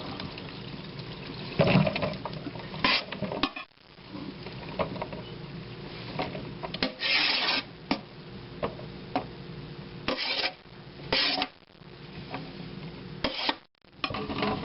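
Salted zucchini relish vegetables and their brine tipped into a kitchen strainer, with intermittent splashing, pouring and rustling of wet vegetables against the mesh in uneven bursts, close by.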